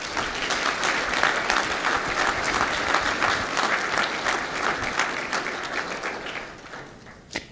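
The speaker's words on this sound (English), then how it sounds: "please join me in giving a wonderful round of applause to our local municipal governments" A large audience at the SCEDC 2017 annual meeting applauds local municipal governments with steady, dense clapping that holds for several seconds, then tapers off, ending with a single louder clap.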